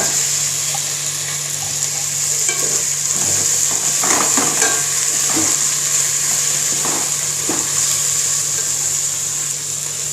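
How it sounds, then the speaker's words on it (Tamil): Tomatoes sautéing in a hot pan for mushroom biryani, a steady soft sizzle with a few spoon scrapes and stirring clinks, close and alone with no talk. "இப்போ வந்து நம்ம தக்காளி போடுறோம்."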